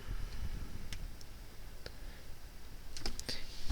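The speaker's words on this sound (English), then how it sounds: "You just click on that," A computer mouse clicking on the miniCalendar widget: a handful of sharp, faint, isolated clicks spaced irregularly over a low background hum, with a cluster of quick clicks near the end.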